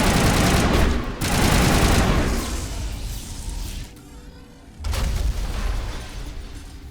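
Sustained heavy gunfire and blasts roar through a firefight in Mass Effect 1, loud and dense with a brief lull before a fresh burst, and no voices over it.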